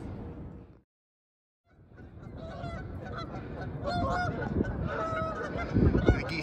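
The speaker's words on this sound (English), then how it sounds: "The geese aren't real happy that we're here." Geese honk repeatedly by a river near an abandoned cement factory, a flurry of loud, close calls overlapping after a brief silence, with gulls and outdoor ambience around them.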